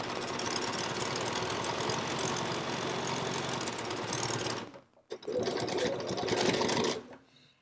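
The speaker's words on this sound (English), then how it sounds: "I'm just going to backstitch a little bit at the beginning and then sew around." A sewing machine runs around the curved edge of a face mask, a close, rapid mechanical whir in two bursts separated by a brief pause.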